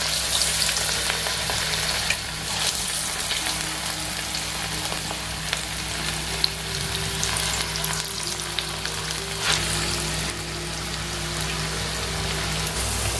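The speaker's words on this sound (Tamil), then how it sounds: "இப்போ நம்ம காலிஃப்ளவர் ஆயிலில் சேர்த்துடலாம்" Battered cauliflower pakoda deep-fries in oil over a medium flame, a close, steady, dense sizzling hiss with light crackles that continues without a break.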